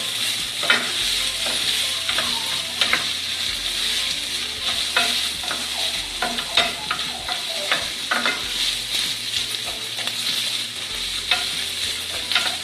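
Food frying in a pan on turned-down heat, cooked by itself for a copycat Taco Bell Mexican pizza; a close, steady sizzle runs throughout with small scraping and stirring clicks, and no one speaks.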